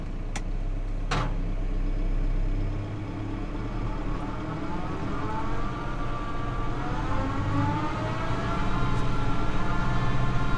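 An RS Agri Sabre 600+ straw chopper blower runs steadily off a tractor PTO at 1000 rpm, a continuous droning machine hum with a faint rising whine and a couple of sharp clanks near the start.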